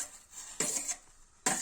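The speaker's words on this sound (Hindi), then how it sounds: "सबसे पहले हम डालेंगे तुलसा के पत्ते," Tulsi leaves drop into a pot of water about to boil, giving two short, close clattering bursts with a light metallic clink against a quiet background.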